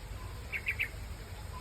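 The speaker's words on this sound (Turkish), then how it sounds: "Kuşların sesi de ayrı." Three quick high chirps from a small bird close together, faint over a steady low outdoor hum in Singapore, then quiet background.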